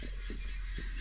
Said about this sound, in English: My birds are making noise like they have seen something.